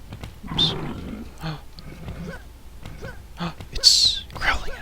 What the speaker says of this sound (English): It's growling at us.